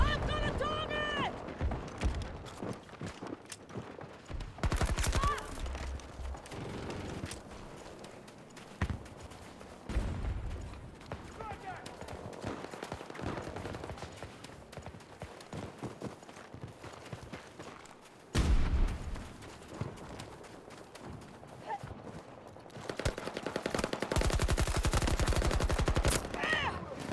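Repeated bursts of automatic rifle fire and scattered shots ring out in the Battlefield 2042 video game, loud and close at moments and quieter between, with voices and game chatter mixed in.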